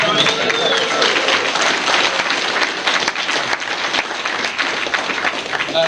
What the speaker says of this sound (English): you guys should probably clap for Dawn of the Dead